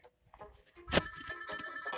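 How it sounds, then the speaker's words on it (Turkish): A telephone rings in short, bright bursts amid some clattering, moderately loud and close. "Telefon çalıyor benim."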